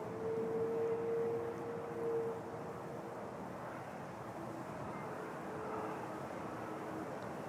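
Porter airliner accelerating down runway 05 at Toronto Pearson, a steady broad roar heard from a distance with a faint tonal hum, holding level throughout.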